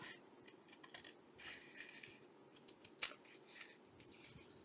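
Scissors snip and trim paper for a handmade feminine journal, making quiet, close, irregular cuts with faint rustling of paper between the snips.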